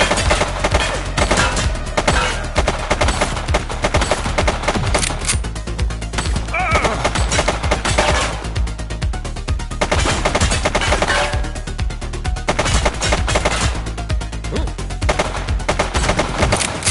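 Dense automatic gunfire rattles almost without pause through a combat scene in The Precinct video game, loud and close, with short bursts layered over a constant din of shots and background game sound.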